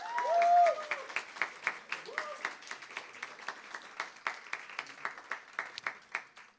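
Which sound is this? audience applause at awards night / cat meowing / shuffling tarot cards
audience applause at awards night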